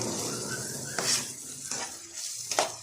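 Ginger, garlic and coriander stem paste fries softly in a pan with turmeric, a low sizzle broken by a few sharp clinks and scrapes of a spoon stirring against the metal.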